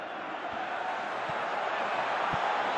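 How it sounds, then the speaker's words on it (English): Stadium crowd in a PES 2018 football match reacting with a sustained roar and murmur, moderately loud and continuous, with a few soft low thumps spaced through it. "you can hear how the crowd are reacting to this too."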